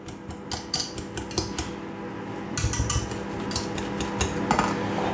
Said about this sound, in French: je vais moi écraser maintenant donc les pommes de terre à l'aide de mon fouet